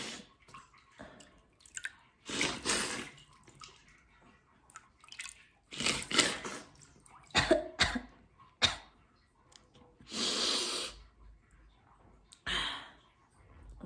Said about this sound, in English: Gonna sniff it in and blow it out into the bucket.